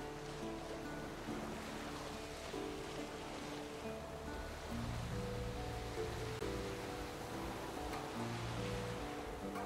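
Boat moving on water in The Witcher 3, a soft continuous wash of waves and lapping water with a low steady hum and shifting tonal game sounds, no voices.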